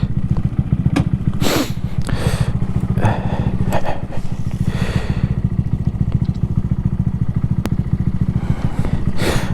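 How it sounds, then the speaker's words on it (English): Honda Grom motorcycle engine idles with a steady, rapid putter, close and continuous, with faint clatter and a few brief sounds in the background. "bike's just rumbling along"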